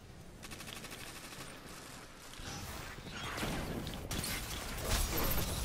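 Rapid Destiny 2 gunfire in a firefight, a steady dense stream of shots that swells louder toward the end, with no talking over it.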